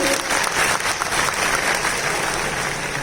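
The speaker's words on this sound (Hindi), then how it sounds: "जोरदार तालियां बजनी चाहिए" Audience applause at a business event honoring a woman from a company's success-story project, a steady, dense clapping from a crowd that fills the whole moment with no talk.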